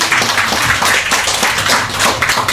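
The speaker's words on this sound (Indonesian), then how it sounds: "Tepuk tangan untuk Prudential." An audience at an Indonesian motivational session claps for Prudential, loud close dense clapping with rhythmic bursts filling the whole moment.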